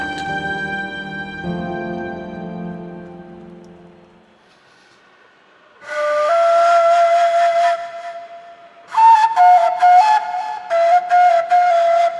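A referee's whistle in the football video game PES 2021 sounds as a sustained blast and then several sharp, loud, repeated blasts in the second half, after a quieter tonal passage.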